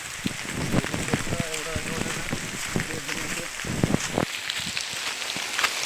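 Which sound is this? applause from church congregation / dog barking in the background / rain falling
rain falling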